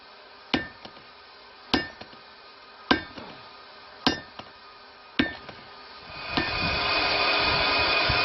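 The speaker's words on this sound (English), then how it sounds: "swinging around an 8-pound hammer all day, it's bloody knackering" Five heavy, evenly spaced hammer blows ring out as an 8-pound hand hammer forges hot metal into a hot-cut hardy tool, each strike sharp with a metallic ring and small rebound taps, before a steady roaring hiss takes over near the end.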